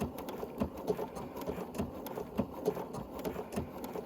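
A sewing machine stitches a quilt block with variegated thread, giving a close, steady, rhythmic patter of the needle running alone at moderate volume.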